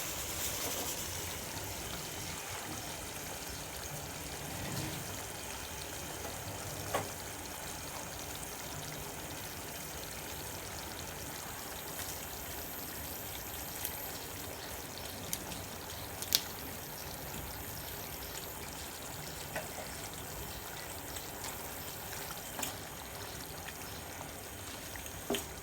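Pork with bamboo shoot boils in a pot, a soft steady bubbling and simmering hiss that stays faint and even throughout, with occasional small pops and clinks.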